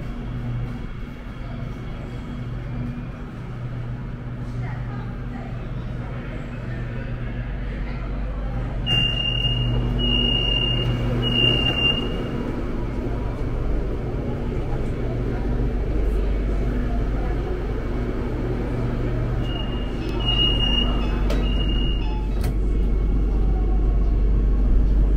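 Steady low rumble and hum of a moving Shanghai Metro subway car from inside, with rising motor whine and faint electronic chimes at intervals.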